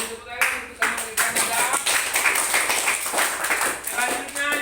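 A classroom of students claps hands together in a lively, uneven rhythm of sharp overlapping claps, fairly close, with voices mixed in.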